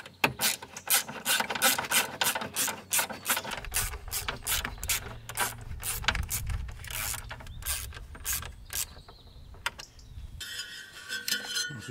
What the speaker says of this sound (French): Ici on refixe les vis pour refixer ça ici.